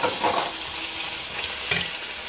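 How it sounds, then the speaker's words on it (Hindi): Potato pieces fry in a pan with ginger-garlic paste and garam masala, giving a steady, close sizzle with faint stirring scrapes and no talking. "इसको 2-3 मिनट मैंने आलू को फ्राई किया, फिर अदरक लहसुन का पेस्ट, साथ ही गरम मसाला"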